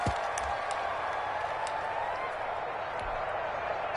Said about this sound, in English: The crowd's not doing that O-line any favors